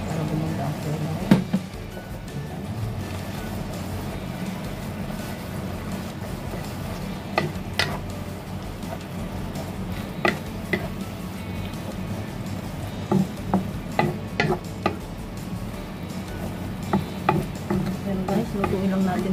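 Sotanghon noodles with corned beef and ampalaya stir-fry in a pan with a steady sizzle, broken by repeated scraping and tapping strokes of a utensil, while someone talks at times over the cooking.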